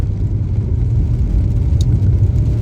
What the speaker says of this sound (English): And then the constant road sound is there